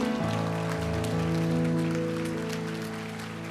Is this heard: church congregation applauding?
yes